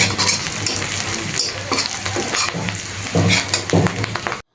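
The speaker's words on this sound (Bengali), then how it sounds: "দিয়ে আমি ভালো মতো ঝাল পেঁয়াজ এবং চিংড়ি মাছটাকে ভেজে নেব।" Chopped onion, green chilli and shrimp frying in a pan, a loud, dense sizzle with stirring scrapes and taps throughout, cutting off abruptly at the end.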